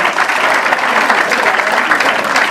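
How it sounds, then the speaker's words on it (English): An audience at a university talk on entrepreneurship claps loudly and steadily, a dense continuous round of applause filling the room with no speech over it. "Clap it up one more time."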